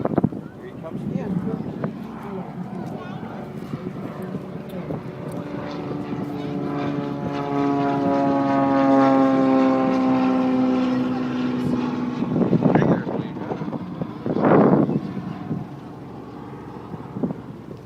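A P-51 warplane at the Manassas Airport air show swells from a distance into a loud propeller drone that peaks and fades away, with people talking faintly.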